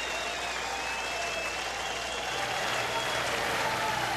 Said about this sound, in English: The crowd now on their feet here at Kauffman Stadium.